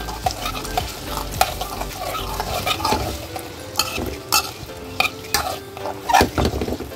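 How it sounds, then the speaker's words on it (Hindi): Ginger garlic paste stirred and sizzling in a well-used dark kadhai, with steady frying hiss and repeated scraping strokes of a spoon against the metal, close and fairly loud. "थोड़ा सा जिंजर गार्लिक पेस्ट और इसको हम ठीक से मिक्स कर लेंगे"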